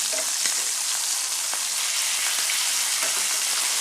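Food sizzles and crackles steadily in a hot pan, a dense hiss with small pops throughout.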